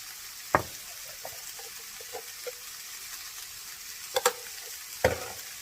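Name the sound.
onions frying and being stirred with salt and turmeric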